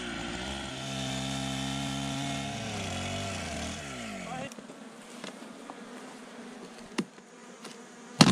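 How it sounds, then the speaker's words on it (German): A loud large motorized saw drones steadily, its pitch shifting as it cuts through a rotten tree trunk in Paraguay, then stops abruptly, leaving bee buzzing and a few sharp knocks. "Nochmals wird die große Säge benötigt."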